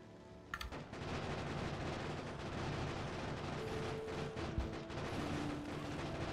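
Turrets fire in the factory-building game Factorio, a dense and continuous rattle of rapid gunfire with a few louder bursts, holding steady across the whole stretch with no talk.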